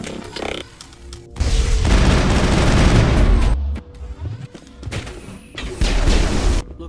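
A loud firefight in the game Mass Effect, with bursts of rapid automatic gunfire and booming impacts in two long volleys separated by shorter shots and brief lulls.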